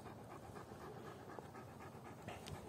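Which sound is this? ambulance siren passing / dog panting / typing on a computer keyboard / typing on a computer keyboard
dog panting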